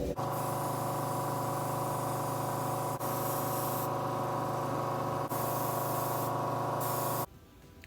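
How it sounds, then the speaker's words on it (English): A paint spray gun hisses loudly and steadily while spraying truck frame rails, with a few brief breaks in the spray, then cuts off near the end. "I'm spraying tight frame rails."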